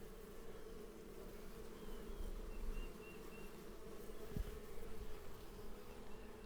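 Bees from a swarm caught in a swarm trap, from a church colony, hum in a steady low drone that holds close and even throughout, with slight swells in intensity and a brief knock partway through.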